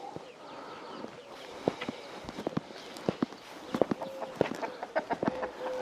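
Hens clucking close by in a backyard flock, short sharp clucks and squawks scattered irregularly over a soft background, with a few scratchy footstep-like taps.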